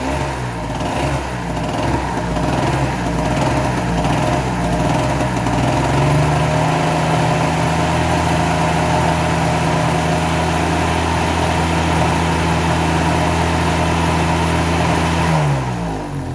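A 1000-watt Harbor Freight portable generator engine runs steadily and loudly at close range, its drone settling into a steady hum partway through before cutting off near the end.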